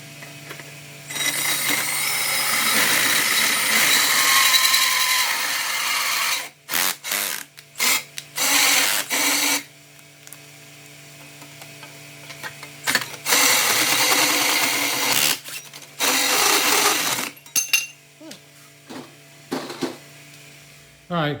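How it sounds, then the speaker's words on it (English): A power drill with a large bit whines in long bursts, drilling a hole, stopping and restarting several times with short pauses, loud and close over a low mains hum. "the big drill bit drilled a nice uniform hole"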